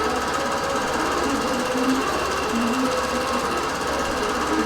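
Computerized quilting machine running its X and Y motors while stitching a quilt, a continuous dense mechanical hum with shifting tonal whines that rise and fall throughout.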